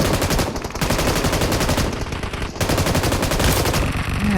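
Rapid, loud PUBG Mobile gunfire fills the whole stretch as automatic bursts and overlapping shots, with dense continuous firing and only brief dips between volleys during friendly fire among teammates.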